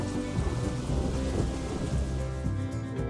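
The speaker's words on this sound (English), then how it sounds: "Meanwhile, the rain flooded the city." Heavy rain pours down in a city while thunder rolls low and continuous beneath the steady hiss of the downpour, with no voices.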